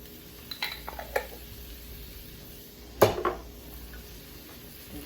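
Kale and sweet potato being stirred in a pan, with a few scattered utensil scrapes and clinks against the pan over a faint background, including one sharper knock partway through.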